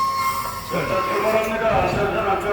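A train rumbles and clatters as it pulls away from Suwon station, with wheel squeal and hum rising over a busy, noisy background.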